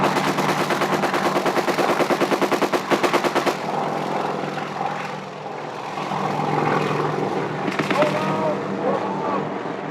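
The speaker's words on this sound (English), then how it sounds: "Our chopper's gunner opens up on the tree line." A helicopter door gunner's rapid machine-gun bursts hammer loudly over the heavy thumping roar of the helicopter, firing at a tree line in 1966 Vietnam, the firing stopping partway as the rotor drone continues.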